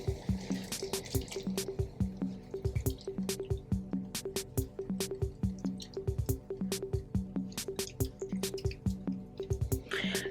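Water dripping and sprayed onto two-strand twist starter locs mixed with peppermint oil, a quick run of close, crisp drips and spritzes repeating steadily with faint background hum.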